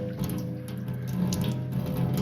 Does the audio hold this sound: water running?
yes